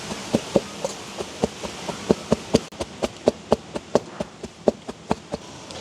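Lumps of drumstick leaf puttu are chopped up in a village kitchen: sharp, evenly spaced taps, about three per second, sound close and clear over a quiet background hiss.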